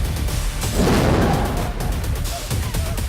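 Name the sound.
air mortars going off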